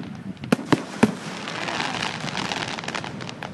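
At the 2012 Pathfinder fireworks display, sharp firework bangs crack in a quick run near the start. A dense rolling crackle of bursts and distant pops follows and continues steadily to the end.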